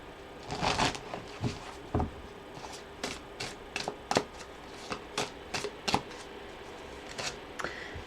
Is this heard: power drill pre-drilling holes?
no